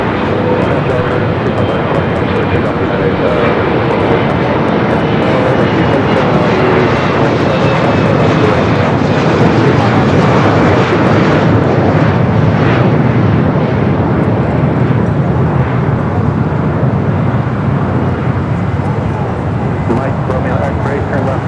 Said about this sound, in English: Cathay Pacific, flight 884, coming from Hong Kong at 777 at 300 yards